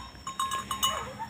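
A newborn calf gives a few short, high bleating calls, close by, amid faint background noise.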